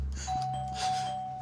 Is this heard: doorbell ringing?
yes